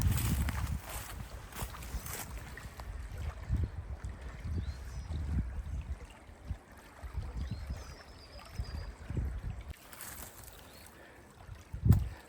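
Water flows and burbles steadily outdoors in the UK, close to the microphone, with gusts of wind buffeting it and no voices.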